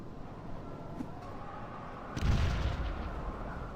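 A frag grenade goes off in Fallout Tactics, a muffled game boom over steady low rumble about two seconds in, with the low roar lingering to the end.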